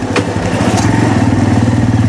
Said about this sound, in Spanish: Vamos a regresar a segunda.